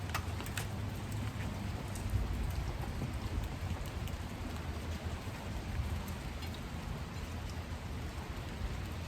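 Steady rain falls outdoors, making a constant dense hiss with low rumbling underneath that stays even and fairly quiet throughout. No voices can be heard.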